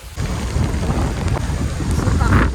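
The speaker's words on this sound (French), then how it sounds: "Look, it's raining." Heavy rain pours down outdoors in the Philippines, a dense, steady roar that fills the whole stretch without a break, loud and close, with no voices.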